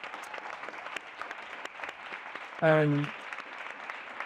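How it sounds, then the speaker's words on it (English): A conference audience gives a round of applause. Soft, scattered clapping runs throughout, and a brief loud voice cuts in near the end. "so I want to give you a round of applause for that."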